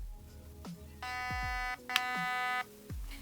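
Two distinct electronic beeps from the ETU programming unit of a Delta Armory AR15 Charlie Keymod 10-inch airsoft rifle, close and clear, each lasting under a second, with faint low clicks and handling noise around them.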